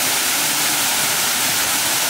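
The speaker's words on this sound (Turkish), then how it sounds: "Aydınpınar Şelalesi'ni gerçekten çok beğendim." Aydınpınar waterfall in Düzce gives a loud, dense, continuous roar of falling water. It is close, steady and alone, with no voices.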